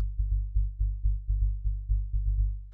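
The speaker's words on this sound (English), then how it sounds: "So after that, we have the sub bass" Sub bass synth from a futuristic techno track, a square wave through a low-pass filter, pulsing in a syncopated pattern of short deep notes with sharp attacks and quick decays, played alone.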